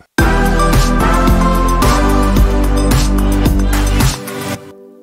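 A loud, dense layered synth chord plays in rhythmic pulses, with rich buzzing harmonics, before cutting off abruptly near the end.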